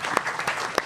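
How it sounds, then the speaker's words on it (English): A press conference crowd at a freestyle wrestling event gives a brief burst of applause, with dense clapping and a few crisp, close claps. "Round of applause there."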